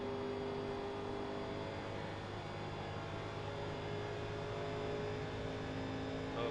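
A 1987 NASCAR stock car engine in the iRacing simulator at Michigan holds a steady, droning hum with a constant mechanical whine, even and unbroken throughout.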